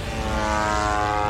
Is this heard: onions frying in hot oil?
no